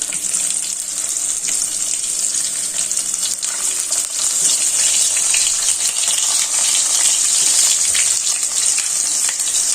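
Stuffed masala bananas added to hot oil, with a pair of dried red chillies, produce a loud, steady sizzle and crackle that runs unbroken throughout, with no talking.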